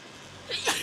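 A single short human sneeze indoors, a quick sharp burst that comes suddenly after near silence.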